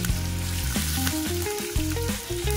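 Curry leaves and ginger crackle and sizzle in hot oil, a steady bright hiss running throughout, with stepped musical tones playing over it.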